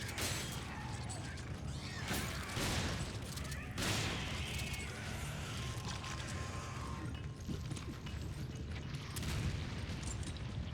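Gunfire in the game Resident Evil 5, dense bursts of shots and heavy booms with mechanical clatter, loud and sustained, a voice faintly present among the noise.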